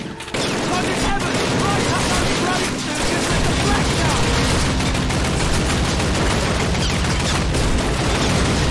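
Heavy gunfire rattles through a Call of Duty firefight, a dense, continuous barrage of overlapping shots and bursts that stays loud and close throughout.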